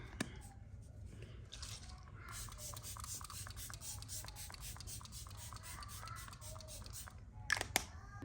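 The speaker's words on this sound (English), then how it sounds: "Final layer of setting spray." Makeup setting spray mists out in a short, sharp burst near the end, preceded by quiet clicks and handling noises at close range.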